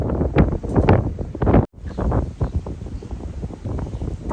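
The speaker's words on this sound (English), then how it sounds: "Did we stress enough that it's windy yet?" Strong wind buffets the microphone outdoors, loud gusty rumble that rises and falls continuously, with a brief dropout midway before the roar resumes.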